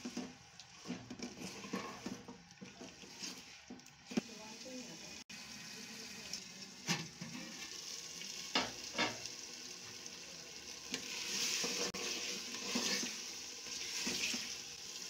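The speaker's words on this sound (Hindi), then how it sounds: "भुनाई करने के बाद हम इसमें लौकी डालेंगे।" Large bottle gourd pieces go into beef browning in oil for a gourd and beef curry, giving a steady moderate sizzle with scraping stir strokes and occasional clinks.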